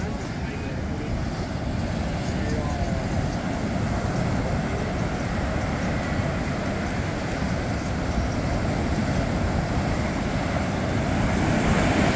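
Waves wash and break continuously at a beach in Los Cristianos, Tenerife, a steady roaring surf with wind noise buffeting the microphone.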